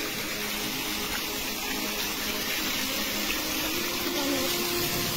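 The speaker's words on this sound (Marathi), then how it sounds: "12 इंच पाणी हे निघत आहे। मोटर बंद आहे" Water gushing under pressure from an overflowing borewell with the motor off, a continuous loud rushing hiss that stays steady throughout, with no talk.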